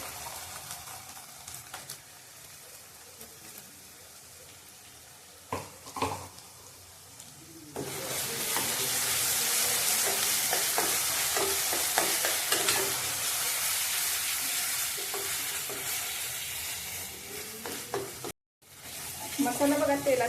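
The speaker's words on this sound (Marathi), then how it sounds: "तो आता भाजून घेऊया तेलात" Garlic-coconut masala frying and being stirred in hot oil for a spicy dry chicken dish, a steady loud sizzle rising after a few quieter stirring scrapes, with a brief dropout near the end.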